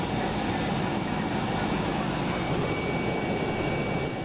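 A rescue helicopter roars loudly and continuously at close range, a dense, unbroken engine and rotor wash that fills the whole stretch without a pause.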